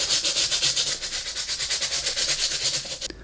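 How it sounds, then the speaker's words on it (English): A stiff bristle brush scrubs the bottom of used sneakers in steady rhythmic back-and-forth strokes, a loud close rasping hiss that stops abruptly near the end. "I'm going to be scrubbing the bottom of these."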